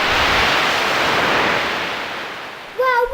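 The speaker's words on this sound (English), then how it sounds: "the wind started to blow and the boat sailed across the water very" A rushing wash of wind and water swells and slowly fades as a sailboat speeds across open sea, ending in a short burst of voice.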